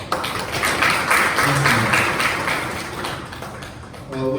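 An audience applauds a speaker at a public hearing on the Cheongju 2040 urban master plan, with a dense burst of clapping that gradually thins out and gives way to a voice at the end.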